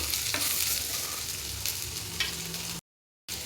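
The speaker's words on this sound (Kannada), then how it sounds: "ಈರುಳ್ಳಿ ಬೇಗ ಫ್ರೈ ಆಗಬೇಕಂದ್ರೆ ಸ್ವಲ್ಪ ಉಪ್ಪನ್ನ ಈ ಥರ ಹಾಕಿ ಫ್ರೈ ಮಾಡ್ಕೊಳ್ಬೇಕು" Onions fry in a pan for a spicy chicken liver pepper fry, giving a steady close sizzle with a few stirring scrapes, alone, broken by a short silent gap near the end.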